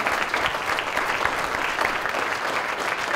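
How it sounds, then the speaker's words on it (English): A room claps for a panel of major Idaho employers after an education Q&A, producing a dense, even roar of applause that holds steady at full strength throughout. "let's give a big round of applause to our panel"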